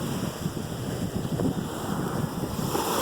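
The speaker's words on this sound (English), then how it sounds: "See where that waves start coming in?" Ocean waves roll in at Bellows Air Force Beach in Hawaii, a broad surging wash with wind buffeting the microphone, fairly close and steady, with no talking.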